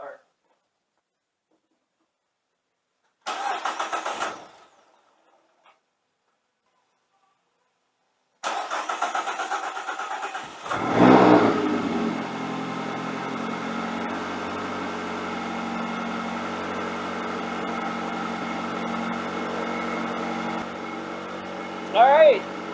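A car engine, just back from a throttle body cleaning, cranks over after a few short bursts of talk, then catches with a loud surge and settles into a steady, even idle that runs on nearby for several seconds.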